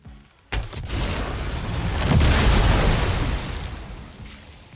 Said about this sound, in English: The explosion just never got old in all of my playtesting.